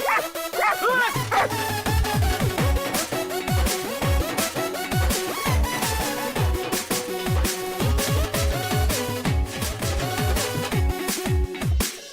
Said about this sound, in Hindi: ये मेरा डॉगी है